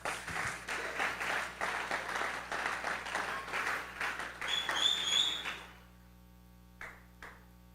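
A church congregation at a sermon applauds in a steady burst of clapping for several seconds, then it stops abruptly and a few scattered late claps follow in the quiet.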